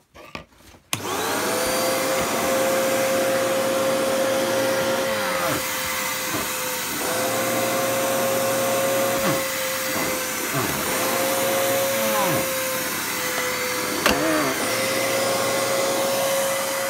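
A Hoover PurePower Enigma vacuum cleaner switches on after a short click and runs loud and steady with a constant whine. The pitch dips and recovers several times as the airflow changes, and no one speaks.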